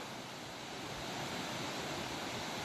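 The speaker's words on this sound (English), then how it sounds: "Bearwallow Falls is a slide type waterfall. The water slides down the rock." Water of Bearwallow Falls, a slide waterfall in Gorges State Park, western North Carolina, rushes down a rock face in a steady, dense hiss, constant and fairly near with no talk.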